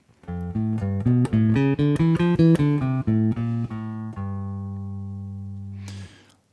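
A low bass guitar line climbs and then descends in distinct plucked notes, ending on a long sustained tone, played alone.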